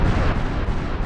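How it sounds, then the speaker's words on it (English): Capital ships firing naval guns in the strategy game Supreme Ruler Ultimate, heard as a dense, continuous low rumble of heavy booms blending together, loud and unbroken for the whole moment. "Got these capital ships opening fire."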